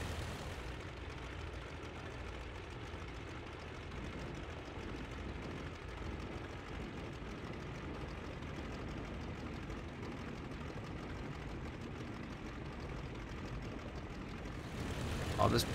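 A Halberstadt D.II biplane taxiing in the game Rise of Flight, its engine a steady low drone that runs unbroken and close, rising slightly at the end.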